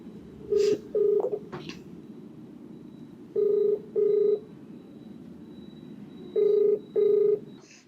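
Telephone keypad tones placing a call, three pairs of short beeps spaced apart over a quiet room hum, with a few faint clicks between them.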